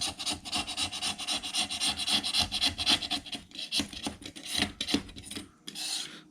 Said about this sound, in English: just scraping off that old rubber cement